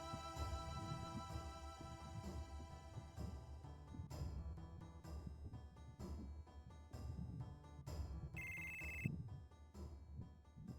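A telephone rings inside the video game Final Fantasy 7, a synthetic electronic ring sounding once briefly over the game's continuous background music, with no talking.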